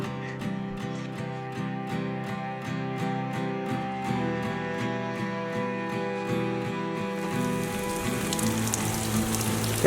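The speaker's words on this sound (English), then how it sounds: "Getting some good rain." Steady rain falls on a hard surface, a dense, even patter holding at a moderate level for the whole stretch, with no voices.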